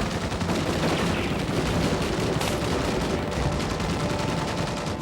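Sustained, dense gunfire effects boom through a T2 3D theme park attraction, a continuous loud barrage layered with rumbling impacts and no gaps, heard alone without voices.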